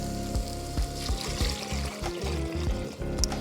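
Water is poured into a pan of sauteed zucchini at an outdoor camping cookout, a steady close pour and trickle with bubbling and sizzle running throughout, no voices.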